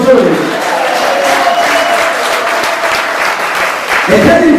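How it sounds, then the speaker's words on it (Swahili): A church congregation claps warmly, a loud continuous rush of applause with voices calling out over it and a louder burst near the end. "Yesu kwa yako mpigie makofi mazuri"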